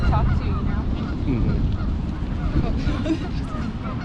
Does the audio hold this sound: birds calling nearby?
yes